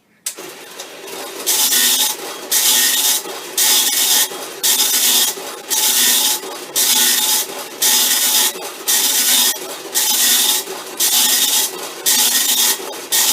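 A vintage tractor feed printer for a Commodore PET runs its self-test, loud rasping print-head passes repeating in a steady rhythm with brief gaps between lines.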